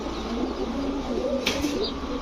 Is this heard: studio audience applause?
no